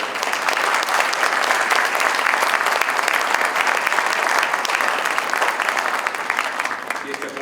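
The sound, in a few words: audience applause at a book fair talk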